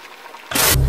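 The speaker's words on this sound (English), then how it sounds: "This is boiling water." A sudden rush of bubbling, churning water bursts in after near silence, loud and close.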